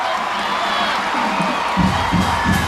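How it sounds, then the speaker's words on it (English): High school football crowd at a night game in Hoover, Alabama, a distant roaring swell of cheering and whoops that rises toward the end, without clear nearby talk. "Now the crowd's back into it."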